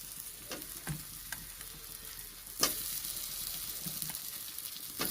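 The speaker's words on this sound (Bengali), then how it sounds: "এবার আলুগুলো দিয়ে দিই, আলুগুলো দিয়ে একটু কষাবে।" Potatoes fry in a reddened spice paste for Bengali catfish curry, a steady sizzle with occasional stirring scrapes and clicks, close and moderately loud, with no talking.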